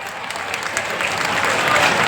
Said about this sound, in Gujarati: તાળીઓ પાડજો એકવાર